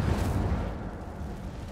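An Incendio fire spell cast in the video game Hogwarts Legacy, a short dense whoosh of flame with a low rumbling burst that fades slightly over under two seconds.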